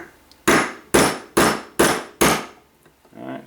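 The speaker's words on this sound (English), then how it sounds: "Going to take a few whacks," Five sharp, evenly spaced metallic hammer blows drive a punch against a pin in an SKS rifle, each strike loud and close with a brief ringing decay, followed by a softer scrape.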